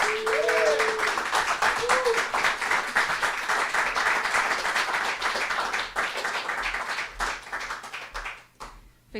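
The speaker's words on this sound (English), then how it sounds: "Please give him a round of applause." A crowd at a book launch in L.A. applauds the author Alan, sustained loud clapping with a few whoops that gradually thins out and fades near the end.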